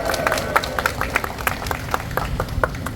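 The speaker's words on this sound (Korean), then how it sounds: "다시 한번 권영신 위원장님께 뜨거운 박수 한번 보내주시기 바랍니다" Residents at an outdoor rally supporting the Seoul–Yangpyeong expressway clap in a steady, rhythmic beat. Sharp, regular claps punch through a softer bed of crowd noise.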